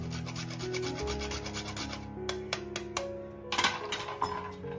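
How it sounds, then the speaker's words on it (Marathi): Nutmeg being grated for dry-fruit shrikhand, rhythmic scraping rasps against a metal grater with a few sharp strokes near the end, heard close and without talk, over a faint tonal background. "मस्त जायफळ किसून घ्यायचा."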